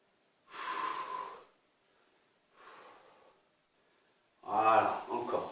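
Three strong breaths during a leg workout session: two long exhales separated by pauses, then a louder, harsher heavy exhale near the end, close and alone without talk.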